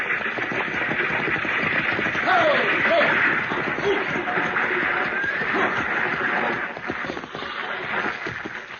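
Six-horse stagecoach hitch on the move, with a steady rumble of hoofbeats and rolling noise, loud and close throughout, and brief whinnies in the middle.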